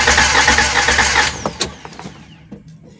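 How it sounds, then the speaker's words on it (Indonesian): A Daihatsu Gran Max engine cranks on the starter, a loud, close, continuous churning burst for over a second that then trails off into scattered clicks and knocks. "Oke, kita starter ya, teman-teman."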